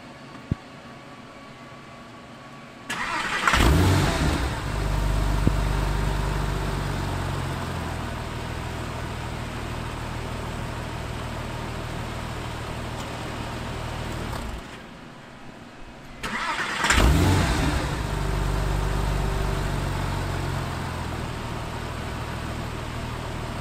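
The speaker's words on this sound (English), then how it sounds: "just show you the car starting up one more time" A Porsche 911 engine with a slow-start fault cranks and fires up, settles into a steady idle, cuts off, then starts again with another sharp rev before idling on.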